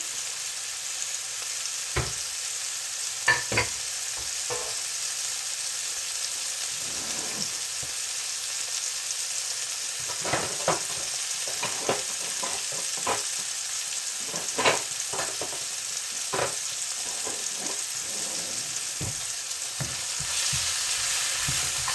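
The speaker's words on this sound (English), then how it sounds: "You need to get that sizzling sound" Steady, loud sizzling of onions frying in a pan, with occasional sharp crackles and stirring scrapes over the constant hiss.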